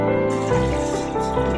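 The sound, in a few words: pouring water into a pot for herbal kadha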